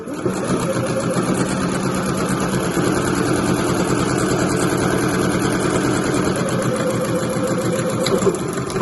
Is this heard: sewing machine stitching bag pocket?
yes